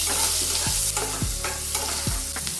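Chopped onion and cumin seeds frying in a tablespoon of oil in a pan for a bhindi dish, a steady close sizzle broken by a few scraping stirs, with no talk.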